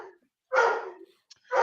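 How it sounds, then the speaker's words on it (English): A dog barks twice nearby, loud, short bursts separated by a pause. "I can't hear you over that dog."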